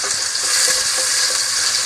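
Sliced onions fry in hot oil for a beef moti pulao, giving a loud, steady, close sizzle that runs without a break.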